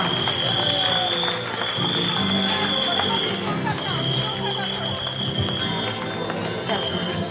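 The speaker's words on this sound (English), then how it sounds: "One round of applause for the FNB team." Applause for the food and beverage team at a Christmas and New Year celebration, loud and dense, mixed with music, crowd noise and a steady tone for the whole stretch.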